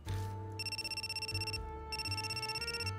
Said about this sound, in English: Just then, someone else's cell phone started ringing shrilly.